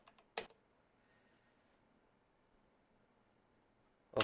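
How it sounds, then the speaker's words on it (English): Someone enters a passphrase on a computer keyboard. A short burst of crisp, close keystroke clicks comes near the start and another at the end, with near silence in between. "I can type the passphrase that I want."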